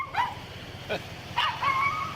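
Dog giving high-pitched yips, short barks and whimpers in a few separate bursts, fairly close, over a low background hum.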